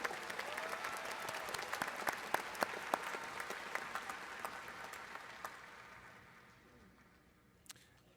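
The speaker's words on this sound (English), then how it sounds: "Please recognize her and the excellence she represents with your applause." Large commencement audience at a university graduation ceremony applauds steadily in a big hall, a dense wash of clapping that fades out gradually toward the end.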